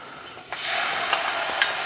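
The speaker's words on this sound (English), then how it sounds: "about a tablespoon or so of oil in a hot wok, and then we're just going to place the prawns in" Prawns hit a tablespoon of hot oil in a wok, bursting into a sudden loud sizzle that holds steady with a couple of small pops.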